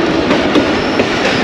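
A Karachi Circular Railway local train runs on its rails, heard loudly from on board as a continuous rumbling roar with rhythmic clickety-clack of the wheels.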